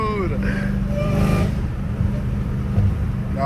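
A straight-piped Dodge Hellcat Redeye engine drones and revs loudly from inside the car, a heavy continuous low rumble with someone talking over it.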